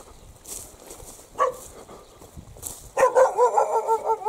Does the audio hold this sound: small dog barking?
yes